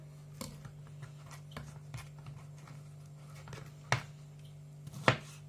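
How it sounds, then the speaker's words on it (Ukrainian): A knife taps a cutting board in scattered, sparse strokes, finely chopping peppers, a few sharper chops standing out over a quiet hum. "І міленько ось так нарізаю."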